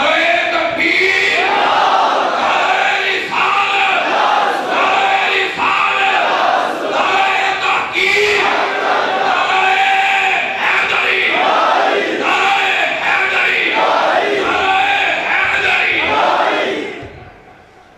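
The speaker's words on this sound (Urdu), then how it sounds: "آپ پرجوش نعرے کے اندر آپ کے استقبال کریں. نعرہ تکبیر" A large crowd loudly chants the Takbir slogan in welcome at a religious gathering, its massed voices rising and falling in steady rhythmic waves before cutting off at the end.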